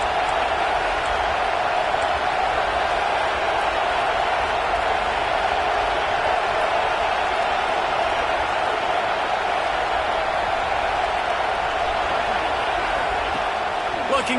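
Football stadium crowd at a college game cheering on its defense in the red zone, a steady dense roar throughout with a commentator talking over it.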